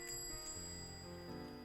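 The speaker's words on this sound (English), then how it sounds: "the doorbell took my attention away from Isada" A shop doorbell rings in a bright, sustained chime with steady ringing tones, clear and fairly close, with no voices over it.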